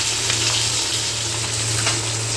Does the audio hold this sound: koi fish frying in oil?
yes